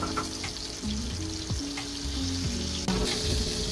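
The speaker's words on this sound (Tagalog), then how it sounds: "ipapray muna natin to" Pork frying in a pan for a crispy pork dish, with a steady, loud sizzle that holds throughout. Short scrapes from a stirring utensil and pieces being moved in the pan sound close over it.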